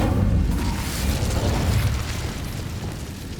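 An Incendio fire spell cast in Hogwarts Legacy bursts out as a loud, rumbling fiery blast that fills the whole moment and then slowly tails off.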